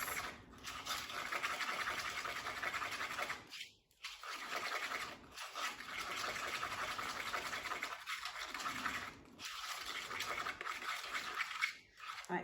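Thinned cake icing stirred in a bowl, giving a continuous close scraping and swishing with brief pauses and changes in stroke over about twelve seconds, and no talk.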